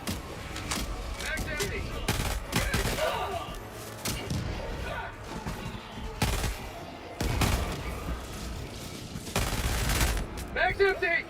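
Video game gunfire rings out in rapid bursts and scattered single shots during a Helldivers-style battle while a player talks and shouts over it, with sharp loud reports spread across the whole stretch.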